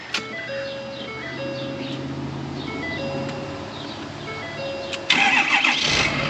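A 2016 truck with old original batteries cranks with a steady whirring starter drone for several seconds, then catches and fires up loudly near the end into a running engine.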